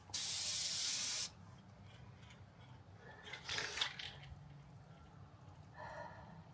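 Aerosol spray paint hisses onto a motorcycle seat stencil for a Triumph Bonneville, one loud close burst at the start, then quieter intermittent sprays with small clatters, no talk.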